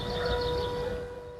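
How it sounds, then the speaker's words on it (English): Town air raid sirens wail across a springtime town in Ukraine during the 2022 war, a steady tone carrying continuously over low rumbling background noise, with no voices. "who ignore the town sirens."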